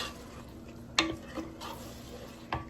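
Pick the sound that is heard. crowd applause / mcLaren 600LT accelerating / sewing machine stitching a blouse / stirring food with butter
stirring food with butter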